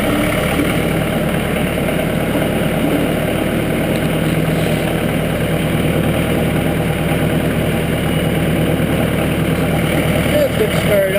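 A cold-started engine, due for a fuel filter change, idles steadily with a rhythmic pulsing, close and loud throughout the clip with no one speaking.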